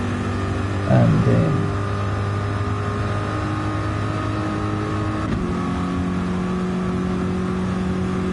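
A video game car driven with traction control switched off hums at a steady engine pitch, with a brief rising rev early on and a shift in tone partway through, and a single spoken word.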